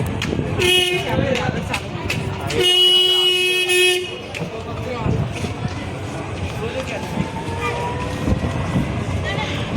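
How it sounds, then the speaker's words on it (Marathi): A mini train's horn blares twice, a short toot then a longer blast, over rolling ride noise and chatter from people on board. "आपण ह्या इलेक्ट्रिक मिनी ट्रेनमध्ये बसलोय"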